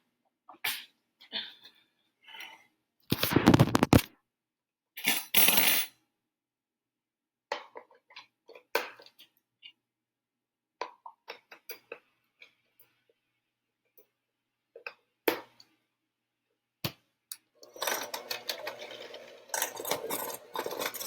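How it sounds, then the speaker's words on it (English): Cookie dough and soft butter are mixed in a bowl by hand, making intermittent close scraping, clinking and thumping bursts separated by quiet pauses, with a denser stretch of stirring near the end. "So I'm just going to mix this a little bit, get it mixed up a little bit before we add the rest of the ingredients."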